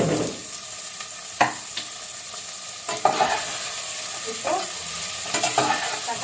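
Tomatoes frying in a pan for vegetable biriyani, a steady close sizzle with occasional scrapes and knocks of stirring, no voices.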